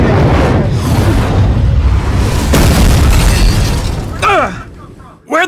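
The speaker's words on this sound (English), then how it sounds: "Where'd that shot come from?" A loud gunshot-like blast erupts in the Daemon X Machina video game amid sustained booming explosions and mechanical rumble, with a few sharp bursts near the end.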